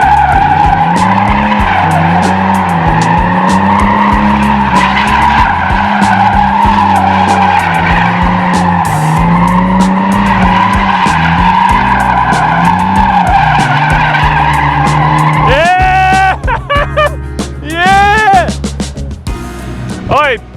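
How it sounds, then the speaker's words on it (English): Car spinning a donut, with tires skidding and squealing in a long continuous loud screech over the revving engine, then breaking into shorter squeals near the end while people shout. "so this is Peter's first donut in the AU"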